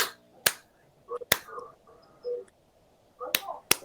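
Sharp single hand claps ring out about four or five times at irregular intervals during a live online broadcast, crisp and close, with brief murmurs of voices between them.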